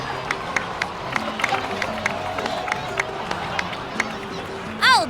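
Crowd cheering and applause from an in-game celebration in Genshin Impact, a steady mid-level roar of many voices with footstep taps over it and a short chime near the end.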